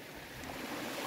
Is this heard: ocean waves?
yes